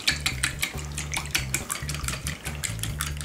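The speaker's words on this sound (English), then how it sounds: "just give it a good whisk" An egg is beaten in a bowl with a whisk, giving rapid, rhythmic clinking and tapping strokes in quick bursts, close and fairly quiet.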